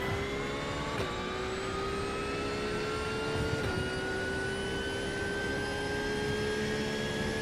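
A racing car engine in iRacing howls at high revs, its pitch climbing steadily through gears with brief dips at shifts, loud and continuous.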